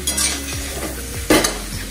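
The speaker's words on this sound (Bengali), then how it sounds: "মশলা কষানো হয়ে গেছে, এখন চিকেনটা দিয়ে কষছি" Chicken frying in a spiced masala and being stirred in the pan, with loud close sizzling and a couple of sharp scraping stirs.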